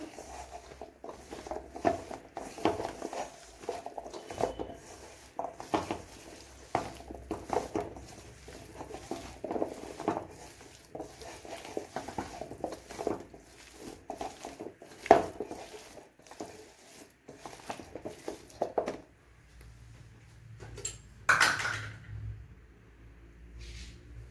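Breadfruit (sheemachakka) pieces being mixed by hand with oil in a bowl, giving soft, close wet patter and squelching with light clinks against the dish, steady and continuous before tapering off.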